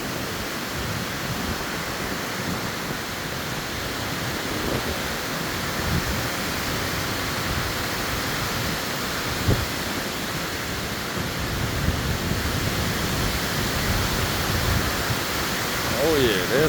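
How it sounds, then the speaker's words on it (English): Strong gusting wind from Tropical Storm Debby in Maryland, a constant loud broadband roar that swells and eases slightly throughout, with occasional faint rustling. "Some serious wind going on."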